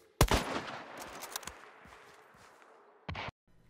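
Gunshots in the game Hunt: Showdown, a loud burst of a few sharp cracks near the start, a trailing rumble, then another brief shot near the end before silence.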